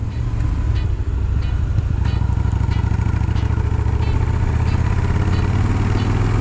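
A Yamaha Bulldog motorcycle engine idles close by with a loud, steady low-pitched thumping pulse and an even rhythm throughout, with no talking.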